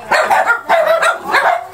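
A dachshund barks in short bursts, three or four close, loud yaps with slight whimpering tone, heard alone during a dog-friendly lunch outing.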